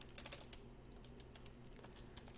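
Fast, light typing on a computer keyboard, a quick irregular run of close, soft key clicks with no voices over it.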